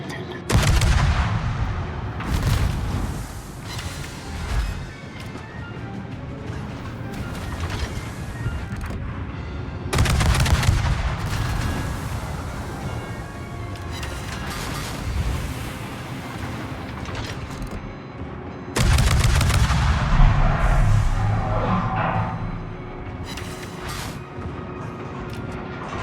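Heavy naval gunfire from warships in the video game World of Warships, with repeated loud booming salvos at intervals over a continuous rumbling battle backdrop, no voices.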